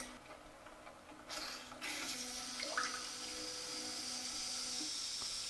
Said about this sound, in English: it'll just kind of flush the wand with water until I tell it to stop